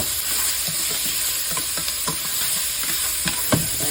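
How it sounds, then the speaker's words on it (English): Bacon and onions fry in olive oil in a pan, a loud continuous sizzle broken by scattered soft stirring scrapes, close by with no voices. "Got the bacon rendering down, and the onions. And a little bit of olive oil."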